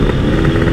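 A motorcycle fitted with a Purson PK1 exhaust revs steadily, giving a continuous loud, deep engine drone with no talk over it.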